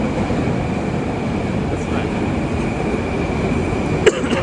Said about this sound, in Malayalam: നമ്മുടെ മെട്രോ വന്നിട്ടുണ്ട്.